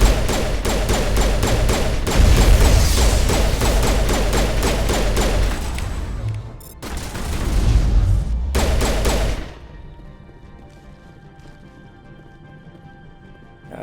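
Rapid, dense gunfire in a Mass Effect sci-fi firefight: a loud, sustained barrage of overlapping shots that keeps going for about nine seconds, then breaks off and leaves a low, quiet background hum.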